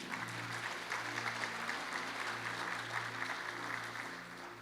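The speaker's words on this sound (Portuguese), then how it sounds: "Você pode dar um aplauso ao Senhor?" Church congregation applauding together in a steady, sustained wash of clapping that fills the room at moderate level, with no talk over it.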